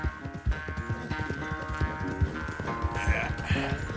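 A horse's hooves clip-clop in a steady, loud rhythm across the ground while riding in the western video game Red Dead Redemption 2, close and continuous throughout.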